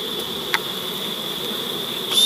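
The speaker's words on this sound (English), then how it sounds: "a few bees checking it out" A steady honey bee buzz hums throughout around a box, close and continuous, with a couple of faint clicks over a quiet background.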